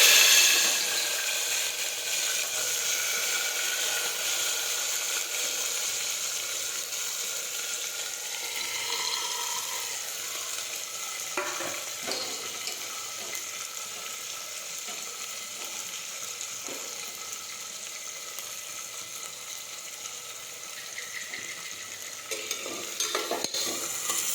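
Mustard seeds and cumin crackle in hot oil for a Gujarati cluster bean dish, a continuous close sizzle with stirring scrapes and a few sharp clicks and pops along the way, no talking.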